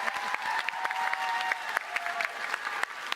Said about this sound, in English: let's give a final round of applause for our amazing guests.